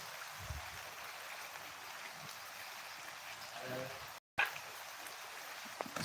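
Steady outdoor rain hisses evenly as it pours, a continuous wash of drops that cuts out for a moment partway through and then resumes.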